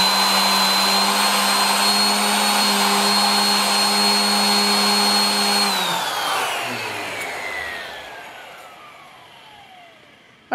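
A valve seat grinder dresses its grinding stone while servicing a cylinder head, a loud steady motorized whine with a constant hum that cuts off near the six-second mark and winds down, its pitch falling gradually until near silence.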